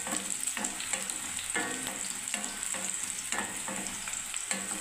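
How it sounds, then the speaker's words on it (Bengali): Raw banana and eggplant sizzle in oil in a pan, a soft constant hiss punctuated by regular scraping stirs every second or so, close up and fairly quiet. "কাঁচা কলা আর বেগুনটা আমার ভাজা হয়েই গেল প্রায়"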